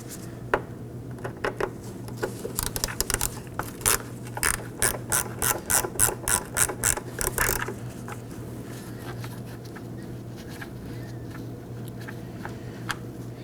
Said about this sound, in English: I'm going to remove them with my T15 Torx bit.